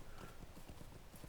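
Horse hooves clip-clop rapidly and rhythmically in a video game set in Middle-earth, several quick strikes close by over a dense background wash.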